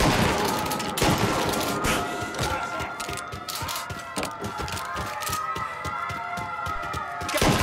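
Gunfire in the video game Mafia Definitive Edition, rapid sharp shots in a dense fusillade over a loud, busy game soundscape, with no break throughout.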